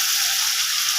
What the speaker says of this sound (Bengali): এই যে আমি চিংড়ি মাছটা ভেজে একটু ভালো করে ভেজে নিই